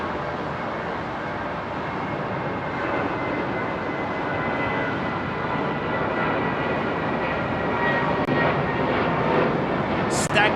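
A heavy airliner departs Heathrow Airport, its jet roar a broad rumbling wash that slowly swells louder over the clip while people talk over it.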